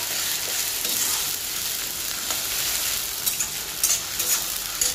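Ginger garlic paste sizzles with onions in a pan for chicken gravy, a steady close crackle with occasional stirring scrapes and no talking.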